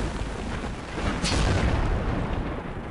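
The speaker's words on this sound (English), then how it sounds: "I'm being shot at." Tank cannon fire landing around a Jagdpanzer IV in a tank battle game, a heavy rumbling barrage with one sharper blast cracking through midway, loud and sustained.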